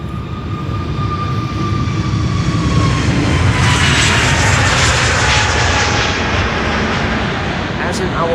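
KLM airliner taking off from the Polderbaan runway at Schiphol, a loud continuous jet engine roar with tonal whine shifting as it passes, sustained throughout under occasional talk.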